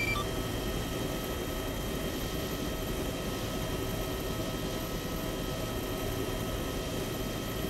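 Chinook helicopter in a video game, a steady, dense rotor and engine drone that fills the whole stretch at an even level with no pauses or talk.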